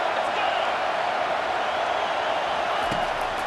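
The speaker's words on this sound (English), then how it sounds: "Third down, and this crowd is tearing the lid off this place." Steady roar of a stadium crowd cheering in EA Sports College Football 25 on a third down against Texas, a dense, continuous wash of noise with no break across the whole stretch.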